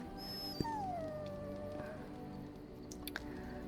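A dog whimpering in the video game Dragon Age: Origins, a faint high whine gliding downward under a steady low background hum, with a couple of soft clicks.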